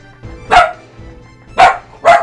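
A pet dog called T-Dog barks three sharp, loud times indoors, with a single bark followed by a quicker pair and short quiet gaps between them.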